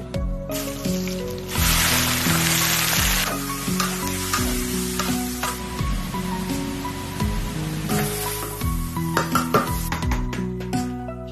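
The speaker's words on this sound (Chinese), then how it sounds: "跟着就开火炒菜。" Vegetables are stir-fried in a pan with a loud, close sizzle that swells and fades as the food is tossed, broken by repeated clinks and scrapes of the utensil against the metal.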